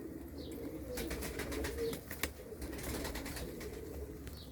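Young pigeons in a loft give soft, low cooing under steady ambient noise, with a few faint chirps and a brief flutter toward the middle.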